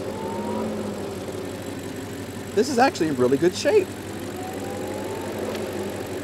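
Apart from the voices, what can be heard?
BMW 750 Li engine idling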